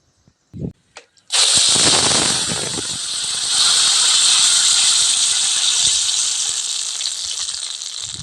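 Blended banana poured into hot ghee in a pan for banana and karupatti halwa bursts into a loud, sustained sizzle after a few faint knocks, the hiss staying strong and close to the end.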